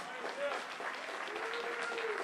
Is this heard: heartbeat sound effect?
no